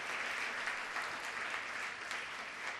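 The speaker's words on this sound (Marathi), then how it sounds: "आपण सर्वांनी टाळ्या वाजून जोरदार त्यांचा सत्कार करू." An audience at a musical evening event claps to honour a person, a fairly faint, continuous wash of many hands clapping with no voices over it.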